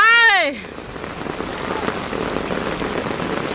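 Heavy rain pours steadily onto surfaces in a dense, even hiss, after a brief voice at the very start.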